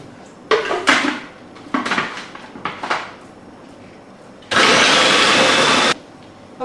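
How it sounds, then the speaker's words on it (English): Dishes clatter in several short bursts, then a blender whirs loudly and steadily for about a second and a half, blending juiced tomatoes with onion before stopping abruptly. "I'm going to blend them"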